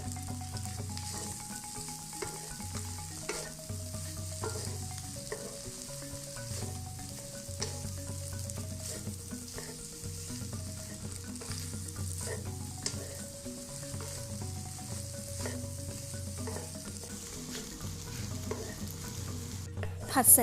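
Crab fried rice being stir-fried with scallions and coriander, a steady sizzle with repeated scraping stirs of the spatula against the pan, moderately close, and no talking.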